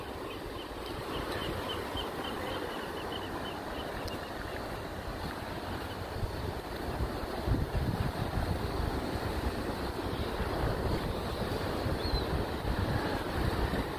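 Ocean waves wash steadily onto the beach shore at La Jolla, San Diego, a continuous broad surf roar with light wind buffeting the microphone, swelling slightly louder in the second half, with no voices.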